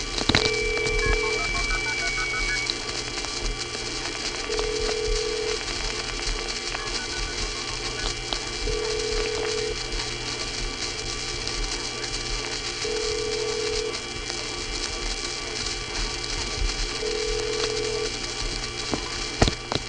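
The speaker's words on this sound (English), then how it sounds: "the sound that sounded like a squealing teapot, which you heard before and will hear again, is a nearby trunk which goes into oscillation when it's about to receive a phone number" A vintage 1970s telephone trunk line gives off periodic squealing tones like a teapot, recurring in short bursts over a steady line hiss with faint background tones, no talk.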